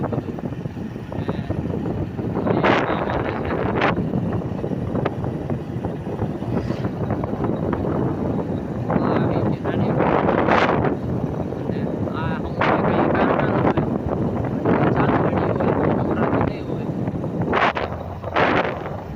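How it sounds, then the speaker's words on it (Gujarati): Wind blows steadily outdoors beside a factory, a constant rushing roar buffeting the microphone, with voices talking intermittently over it. "કારખાના પાસે થોડો પવન આવે"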